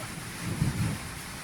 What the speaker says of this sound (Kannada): ಸಿಡಿಲು ಗುಡುಗು ಮಳೆ ಪ್ರಾರಂಭ ಆಗಿದೆ.